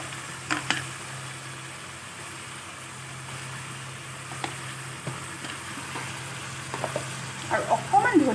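Vegetables sizzle faintly and steadily in a pan with salt, turmeric and coriander powder for an Assamese veg thali, with a few soft scrapes of stirring near the end and no talking.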